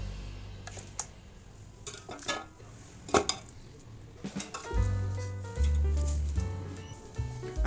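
Cooked beef trotters for Pakistani beef paya are moved into an open pot, with scattered metallic clinks and scrapes of utensil on cookware, followed by a louder sustained low rumble of handling near the end.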